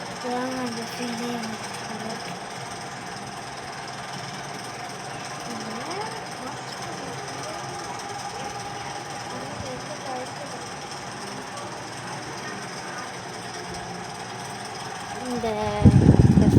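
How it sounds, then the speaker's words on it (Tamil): Steady broadband whir of an electric fan running indoors, continuous and fairly loud throughout, with a louder low burst near the end. "இந்த ஃபேன் சத்தம் தான்."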